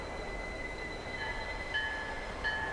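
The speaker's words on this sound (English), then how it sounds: "This is a train for people in a hurry." A commuter train rolls past with a steady low rumble and faint high wheel squeal rising near the end, moderately close and without talk.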